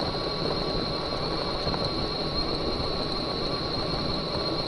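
A Biktrix electric bike's motor drives it uphill on the Little Red Rock loop with no pedaling. It gives a steady, even whine with a constant rushing drone underneath.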